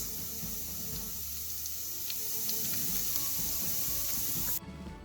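Ginger, garlic and curry leaves sauté in hot oil for a beef curry, a soft, steady hiss with faint crackles close by that cuts off abruptly near the end.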